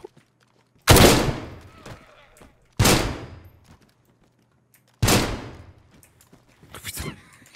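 Three loud, sharp gunfire bursts in the survival video game DayZ, each a hard crack that fades out, spaced about two seconds apart, with a fainter fourth report at the end.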